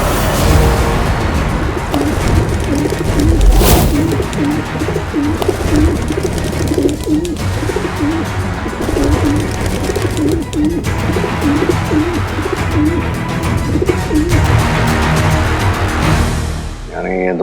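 Pigeons cooing in a scene from a Hindi fantasy film about Aladdin, with repeated low, throaty coos rolling on steadily and loudly throughout amid a busy background.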